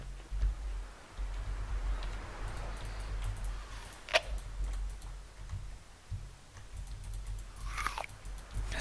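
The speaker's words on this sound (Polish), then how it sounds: "Dalej wcina jabłka." Video game character crunching on apples: repeated crisp bites and chewing, close and fairly quiet, with a sharp crunch midway and keyboard taps mixed in.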